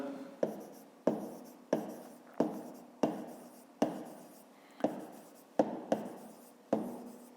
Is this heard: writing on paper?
yes